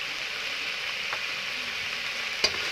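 Masala with turmeric powder sizzles steadily in a frying pan, a continuous hiss with a couple of faint scrapes from stirring.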